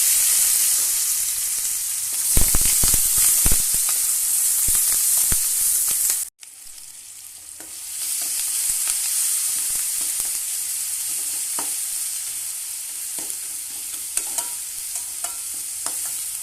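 Onion, tomato and curry leaves fry in oil for a brinjal kuzhambu. A loud, close sizzle carries sharp spatula scrapes and knocks early on, then breaks off abruptly and resumes as an even hiss with occasional stirring taps.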